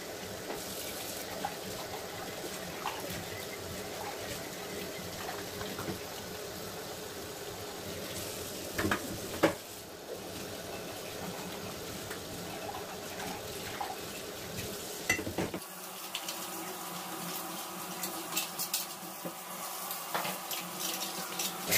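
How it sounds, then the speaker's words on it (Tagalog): In a home kitchen, soaped plates are rinsed under a running tap, giving a steady hiss of flowing water with light clinks and scrapes of dishes. The water sound shifts to a thinner, quieter stream for the last several seconds. "nasabo na lahat ang ating mga pinggan at ito ay ating babanlawan na ngayon."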